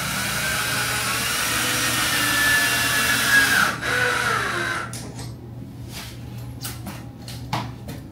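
A power drill whirs steadily for several seconds pre-drilling screw holes while installing a hair wash bowl, its pitch dropping as it winds down, followed by lighter knocks and handling noises nearby.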